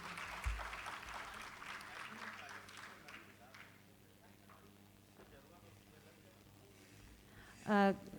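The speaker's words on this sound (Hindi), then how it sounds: "एक बार इन कलाकारों के लिए ज़ोरदार तालियां होनी चाहिए मित्रों" A crowd claps faintly at a distance for performers at a Janjatiya Gaurav Divas event, the applause thinning out and fading to near quiet after a few seconds.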